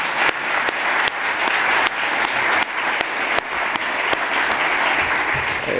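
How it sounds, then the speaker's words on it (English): A lecture-hall audience at a college event claps loudly and steadily for several seconds, dense close applause with no talk. "can we have a huge round of applause for Dr. Sandel"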